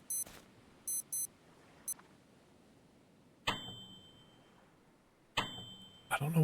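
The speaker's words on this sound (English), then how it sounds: "I don't know why it keeps beeping." Short, sharp electronic beeps from the survival video game Stranded Deep, sounding in quick bursts of one or two, then pausing and returning, with brief clatters of game action and a quiet background between them.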